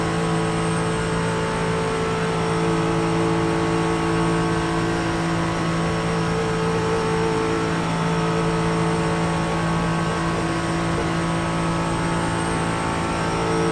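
A Ford Mustang GT4 engine in the iRacing simulator at the Nürburgring Nordschleife holds a loud, steady, high-revving drone for the whole stretch with no talking.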